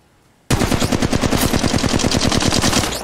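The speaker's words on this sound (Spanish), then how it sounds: "alguien está disparando." Rapid automatic gunfire from the mobile shooter game Apex Legends Mobile, a loud sustained burst of evenly spaced shots that starts abruptly after a brief quiet moment and runs without pause to the end.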